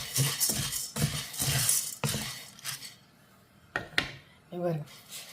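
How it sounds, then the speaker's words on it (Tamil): Rice dry-roasting in a pan for puttu, heard as repeated bursts of scraping and clinking of a utensil stirring the grains against the metal, close and fairly loud, with brief pauses and a voice talking near the end. "அதனால் இதை தனியாக வறுத்துக்கலாம்"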